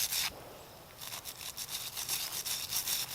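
A stiff-bristled brush scrubs black walnuts in quick, rhythmic rasping strokes, close and fairly quiet, with a short pause before the scrubbing resumes in a steady back-and-forth pattern.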